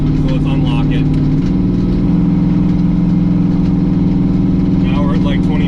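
A Cadillac Escalade with an LSX engine swap and a manual valve body cruising on the street as the torque converter unlocks: a loud, steady in-cabin engine drone that steps up in pitch and stays there.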